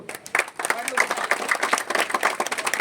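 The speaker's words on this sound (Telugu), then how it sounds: "చప్పట్లు" Applause breaks out at a Bhagiratha Jayanti ceremony in Nagarkurnool honouring officials: a crowd claps together in a dense, steady burst that stays loud and sustained for the whole stretch.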